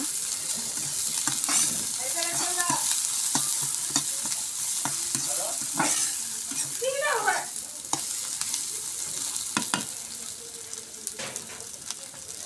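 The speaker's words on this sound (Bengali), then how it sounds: "পেঁয়াজগুলো লাল লাল করে ভেজে নিব" Onions fry in oil in a pan, hissing steadily while a utensil stirs and scrapes them in repeated strokes, with occasional clinks close by and no talking.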